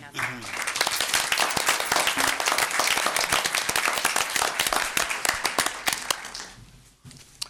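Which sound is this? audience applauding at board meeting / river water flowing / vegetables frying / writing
audience applauding at board meeting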